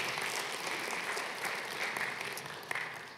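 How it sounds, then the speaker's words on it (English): A church congregation claps its hands in praise during a sermon, a steady, dense patter of many hands held for the whole stretch at moderate level, with no talking over it. "Now would be a good place for us to clap our hands and give God praise for his goodness"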